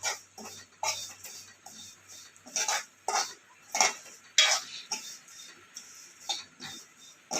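Raw vermicelli being roasted in a pan until lightly reddish, with a spoon scraping and clinking against the metal in irregular bursts, close and fairly quiet, with no voices.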